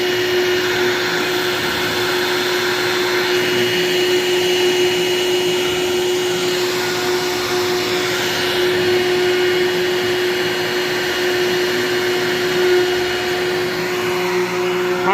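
An Onefinity CNC router cuts MDF with dust collection running, giving a loud, continuous, close whine and rushing air roar. It holds steady for the whole stretch, with a faint sweeping tone change midway.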